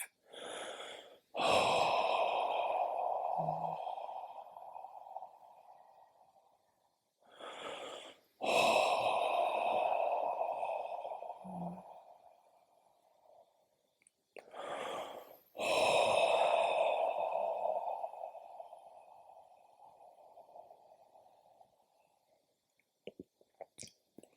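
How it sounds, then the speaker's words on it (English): Three slow, deep breaths taken during a morning meditation at a retreat, each a close, airy inhale followed by a long, fading exhale, evenly spaced with quiet gaps between them and no talking. "Take 3 deep breaths"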